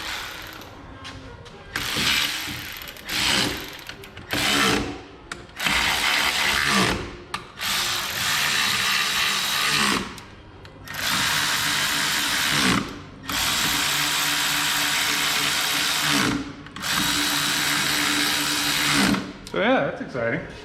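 A jet boat engine with no muffler runs loud and raw, revving in long roaring bursts that cut off abruptly between runs, with a voice speaking in the gaps.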